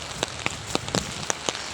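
Heavy rain falls close by, with sharp drops pattering and ticking at an irregular quick pace on a hard surface over a soft steady hiss.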